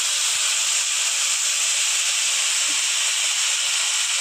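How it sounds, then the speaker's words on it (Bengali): Whole spices tempering in hot oil for potol korma, a loud, steady hiss and sizzle close up, with a few faint taps underneath and no talking. "ফোড়নটা একটু ভাজা হয়ে যায় ভাজছি।"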